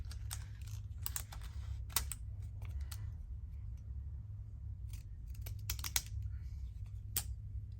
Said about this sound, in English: See why I call them the crunchy scissors?